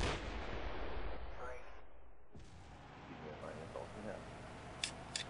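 An AT4 anti-tank weapon fires once, a loud, sharp blast with a long rumbling decay, followed by fainter outdoor noise and small clicks.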